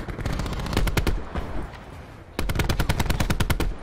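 Rapid automatic gunfire in Black Ops 4 on Nuketown, two close, loud bursts of evenly spaced shots separated by a short gap of quieter rumble, the second burst sharper and sustained.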